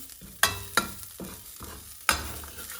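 A small amount of sugar cooks in a pan with a soft sizzle under sharp scraping and tapping from a stirring utensil, three louder knocks standing out close by, and no one speaking.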